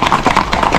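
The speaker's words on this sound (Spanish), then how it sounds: "el caballo, mira" A Paso Fino horse's hooves clip-clop in a quick, even rhythm close by, loud and distinct with no voices over them.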